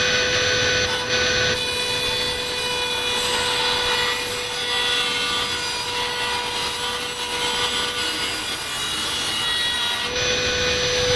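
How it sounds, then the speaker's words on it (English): A cordless Dremel rotary tool cuts into a Gaems G155 case, a steady high-pitched grinding whine with a constant tone that runs the full length and drops out briefly near the start and again near the end. "get the Dremel and cut further enough down to the base here"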